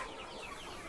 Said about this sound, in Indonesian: Ya, jadi di kiri kanan ini banyak-banyak yang ayam KUB-nya.